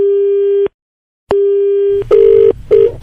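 Electronic telephone tones after a call is hung up sound in steady beeps with a pause between them, followed by shorter, harsher buzzing tones near the end.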